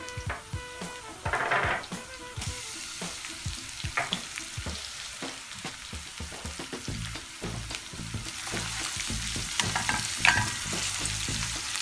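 Chopped onions and peppers sizzling in a pan on the stove for a sucuk pasta, with steady frying hiss and intermittent stirring clacks, fairly close and without talk.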